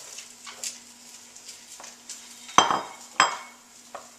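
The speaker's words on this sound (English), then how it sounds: "I'm going to add the celery, sweet potatoes," Celery and sweet potato pieces dropped into a pot of softening vegetables for soup: two sharp clattering impacts close by, with lighter scraping and clinks of utensils before and after, and no voices.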